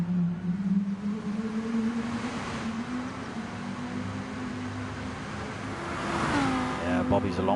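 Lamborghini Gr3 race car engine at Circuit de Spa-Francorchamps in a wet racing video game, a steady droning engine tone that rises in pitch as it revs, heard under commentator talk.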